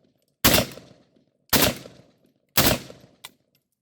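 Three loud, sharp gunshots from an SR-45 pistol in a first-person shooter video game, evenly spaced about a second apart, each with a short decaying tail and a faint fourth pop at the end.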